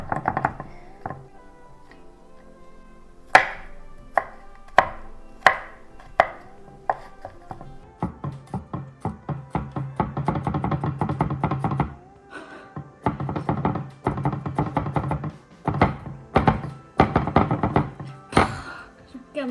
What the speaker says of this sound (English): So thinly slice them unless you want like bits of chunks of garlic